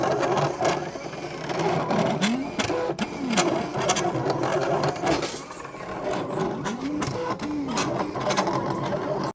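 A Silhouette Portrait cutting machine works on a sticker sheet, its motor whirring in repeated short back-and-forth sweeps with clicking carriage movements, close and moderately loud indoors.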